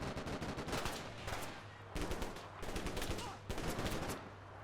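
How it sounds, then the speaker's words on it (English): Russian gunfire in Combat Mission: Black Sea: rapid machine-gun bursts and scattered rifle shots in several clustered volleys, moderately distant and steady. "that's being shot at by Russians"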